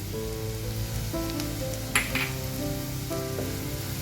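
Turmeric goes into a pan of frying masala for an aloo masala sandwich filling, giving a steady close sizzle with a couple of brief sharper crackles, while a soft tonal background hum runs underneath.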